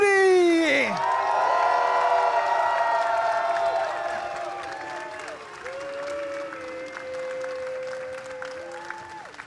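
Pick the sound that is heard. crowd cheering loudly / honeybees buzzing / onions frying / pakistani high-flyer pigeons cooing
crowd cheering loudly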